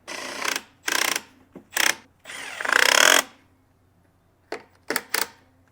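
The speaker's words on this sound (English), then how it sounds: "Now I can tighten the fuel tank up." Screws being tightened on the fuel tank of a Stihl BR 600 backpack blower during an engine pan repair, heard as several short, loud mechanical bursts of ratcheting or driving, separated by brief pauses.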